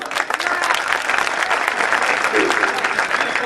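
Sustained applause from a large audience at an Urdu poetry gathering, an All India mushaira, steady dense clapping filling the whole moment at full, even loudness with a faint crowd murmur beneath.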